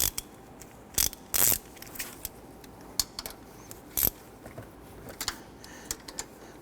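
A ratchet snugs down EGR valve bolts on a Honda Ridgeline, sounding as bursts of quick metallic clicks with short pauses between strokes, close and clear with no talking.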